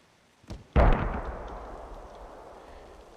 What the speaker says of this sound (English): whoever's on those mortars needs a little more practice for sure